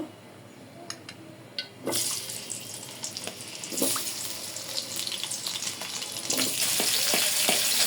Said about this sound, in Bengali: রান্নার জন্য আমি প্রথমে আলুগুলো একটু ভেজে নেব